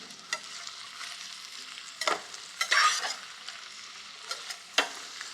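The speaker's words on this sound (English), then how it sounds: "I'm going to introduce the onions to this pan, and we'll let those onions cook while the potatoes finish cooking." Onions cooking gently in oil in a pan for Spanish tapas, with soft sizzling and a few louder stirring scrapes and clatters over a low, steady frying hiss.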